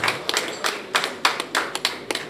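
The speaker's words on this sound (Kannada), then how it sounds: "ಎಲ್ಲರೂ ಚಪ್ಪಾಳೆ ತಟ್ಟುವುದರ ಮೂಲಕ" An audience claps at a Lions Club installation ceremony, scattered sharp hand claps that come in uneven bursts, fairly close, from what sounds like a modest crowd, with no talking.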